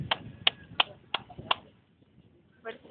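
Hands clapping by a lagoon in Cancun to call a crocodile, five sharp, evenly spaced claps close by, then a short pause and a final softer clap.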